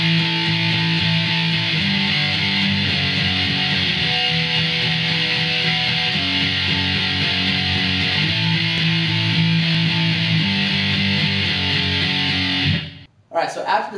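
Electric guitar plays a chorus, a steady, dense run of chords that continues for most of the clip before stopping abruptly near the end.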